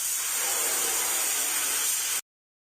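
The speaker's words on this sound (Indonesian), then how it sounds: "Geser pistol semprot ke tempat yang rusak." A spray gun in a video game hisses steadily as it coats a damaged patch of a police car with paint, one continuous spray that cuts off abruptly, with no talking.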